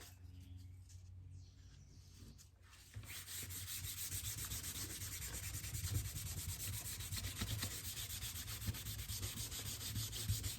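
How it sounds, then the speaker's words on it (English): Painted and stained wood being sanded by hand, a close, steady scratchy rubbing that starts after a few quieter seconds and then continues evenly, with no speech. "we're gonna give it a sand"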